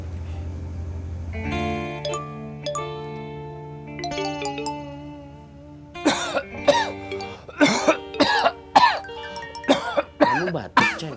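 Sustained tones and chimes ring out, then a person coughs hard in a run of sharp, close bursts, several in quick succession with short pauses between.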